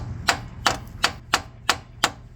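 A brass hammer taps a metal part during a repair, six sharp, evenly spaced metallic strikes close by.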